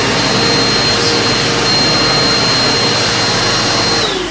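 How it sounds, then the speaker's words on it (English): A Eureka Powerspeed lightweight upright vacuum cleaner runs steadily at close range, a loud continuous whirring roar with no talk. "and then you turn the vacuum cleaner on."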